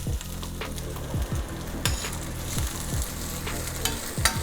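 Bacon sizzles and fries steadily in a pan for pepperoncini pasta, with crackling pops and repeated scraping stirs over a constant hiss.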